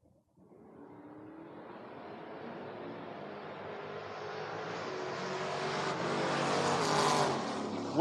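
Drag race pass at a door-car bracket event, a Mustang against a Camaro, engines building steadily from a quiet start into a loud sustained roar that swells and peaks near the end.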